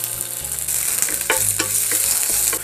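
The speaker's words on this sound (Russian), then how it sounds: "Бросаем наши креветки." Shrimp sizzle steadily in hot olive oil in a pan, a continuous close crackling fry with occasional sharper pops and faint utensil stirring, no voices.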